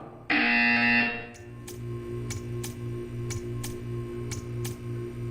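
A loud, harsh buzzer from the video game Portal 2 sounds for about a second, then cuts off and gives way to a steady, even ticking that runs to the end.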